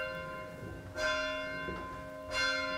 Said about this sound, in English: tolling bell that really signifies the union of your wedding day